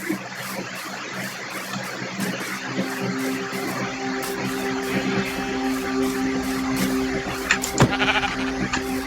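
A Minecraft Bedrock Edition sheep bleats a few times against steady game music and background drone, the calls moderately clear amid the mix.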